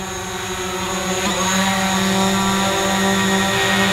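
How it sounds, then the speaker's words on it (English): A DJI Mavic Pro drone flies toward the camera, its steady high-pitched propeller whine loud and sustained, growing slightly louder as it approaches, with no talking. "the drone coming right towards the camera"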